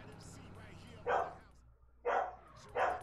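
A dog in the room barks three times, short loud woofs spaced about a second apart, heard over the background of a Grand Theft Auto: San Andreas game stream.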